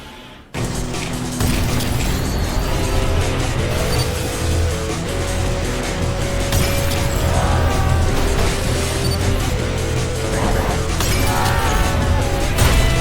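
Glass panes crack and shatter in repeated bursts in the video game Ultrakill, loud and close over dense gunfire, machinery and combat noise in a big room where enemies stand on the glass.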